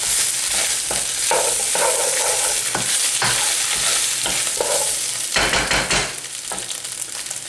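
Paneer curry mixture is stirred in a pan, a spoon scraping and clacking in irregular strokes over a continuous loud sizzle, with no voices.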